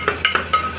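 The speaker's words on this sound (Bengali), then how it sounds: "ঘি দিয়ে এই যে ভাজছি" Boiled onion being fried in ghee with garam masala, with a few short clinks and stirring scrapes of a utensil against the pan over a soft background hum.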